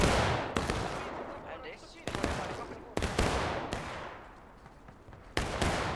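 Musket volleys in the Civil War video game War of Rights, loud sharp reports firing in irregular bursts with crackling echoes, over a steady battlefield din and shouting voices.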